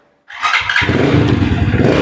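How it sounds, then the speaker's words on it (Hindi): A motorcycle fitted with a diagnostic scanner is switched on and started: brief silence, a short starter crank, then the engine catches and settles into a loud, steady close idle. "बाइक को स्विच ऑन करते हैं और बाइक को स्टार्ट करने की कोशिश करते हैं।"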